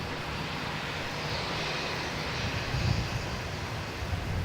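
A Singapore Airlines jet airliner landing at Melbourne Airport, a steady distant roar of engines that swells slightly midway and then holds.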